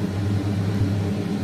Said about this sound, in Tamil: இப்போ அரைச்சி எடுத்துக்கோ.